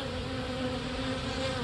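A honey bee swarm of about 5000 bees builds comb on a frame, producing a dense, continuous buzzing hum close by, steady and unbroken with no talk.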